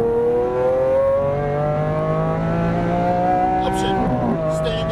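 A Lamborghini Aventador on a track accelerates hard, its engine note climbing in steady, rising tones close and loud, with a brief tire noise near the end as a voice coaches over it.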